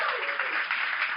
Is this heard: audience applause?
yes